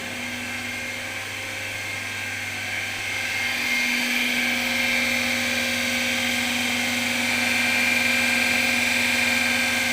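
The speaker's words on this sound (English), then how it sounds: "So the motor is running using the 3-point starter." A DC shunt motor on a three-point starter runs with a continuous high electric whine and steady hum, close and constant, rising slightly in pitch and level after a few seconds, with no talking.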